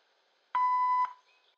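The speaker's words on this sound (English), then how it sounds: "if you leave your name, number, and a brief message after the beep" A single steady answering machine beep, loud and clean, lasting about half a second, alone with no talk around it.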